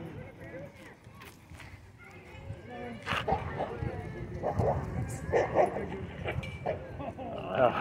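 Several dogs bark and yip in a small dog park, scattered sharp barks at mid distance over steady crowd chatter and outdoor ambience, growing busier toward the end.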